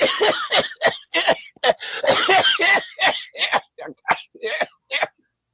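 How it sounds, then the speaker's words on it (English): A series of harsh, repeated coughs comes in quick bursts, close and loud, with brief pauses between them and no clear talking. "Made me cough like an uncle"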